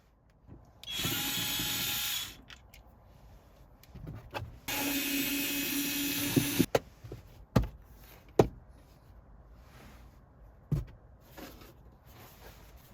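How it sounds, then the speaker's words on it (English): Two T25 screws being backed out of a Toyota RAV4 sun visor with a power driver, heard as two sustained whirring bursts of a few seconds each, followed by scattered sharp clicks and knocks of parts being handled. "There's only two T25 screw holding the sun visor."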